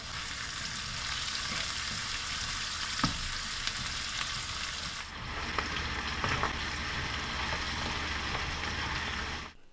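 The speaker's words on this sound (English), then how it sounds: "Start mixing all these flavors together and start browning everything." Meat and green onions brown in a pan for biscuits and gravy, giving off a steady, busy sizzle. Stirring adds brief scraping clicks over the frying, and no one speaks.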